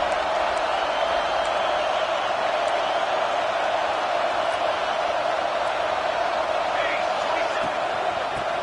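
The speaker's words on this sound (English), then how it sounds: "Decibels rising as the crowd gets behind this defense on 3rd down." Football stadium crowd roaring for the home defense on third down, a steady dense wall of cheering and shouting that holds loud and even throughout, with faint scattered whistles and whoops on top.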